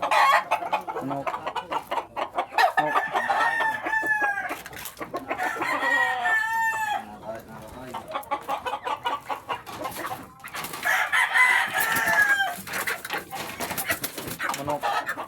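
Roosters crow again and again over steady clucking from a flock of chickens, loud and close, with several overlapping birds throughout.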